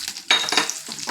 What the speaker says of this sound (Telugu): ఆనియన్ కూడా వేగిపోయిందండి